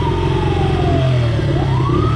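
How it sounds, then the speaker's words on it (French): Police and fire engine sirens wail together on a street near MacArthur Park, one tone sliding slowly downward and then sweeping back up, loud and continuous over low traffic rumble. "La police derrière, les pompiers."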